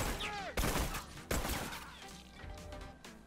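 Gunfire in The Last of Us during a competitive online match: two loud, abrupt shot bursts ring out, with other in-game sounds and a commentator's voice underneath.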